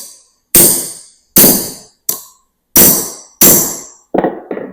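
A hammer strikes a cable lug crimper six times in sharp, loud, separate blows, the last two quicker and lighter, during a 200Ah lithium battery install.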